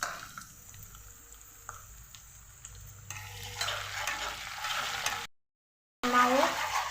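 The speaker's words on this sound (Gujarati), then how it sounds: "મરચાં લસણ બરોબર સતળાઈ ગયું છે એટલે હવે હું એમાં ટામેટું નાખીશ।" Tomato drops into sautéed chili and garlic in a pan for spinach sabzi; a quiet steady sizzle swells louder midway, then cuts out briefly before resuming.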